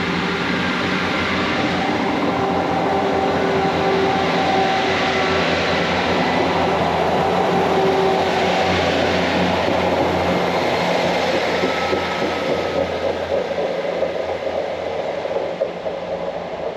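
A GWR Class 158 Express Sprinter diesel unit pulls out of Redruth station on a Penzance to Plymouth service, its engine drone and rail rumble sustained and loud throughout, swelling slightly midway.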